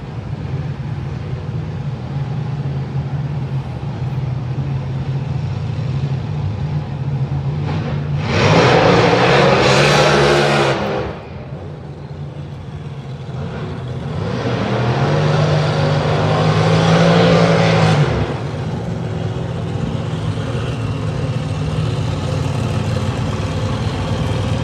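Outlaw fuel altereds and funny cars running at the Texas Motorplex drag strip, two loud roaring passes rising out of a steady background rumble, each lasting a few seconds, with no talk.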